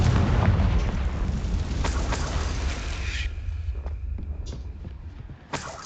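Confringo fire spell blasting in the Hogwarts Legacy video game, a dense rumbling boom with a crackling roar that slowly fades, then a small pop near the end.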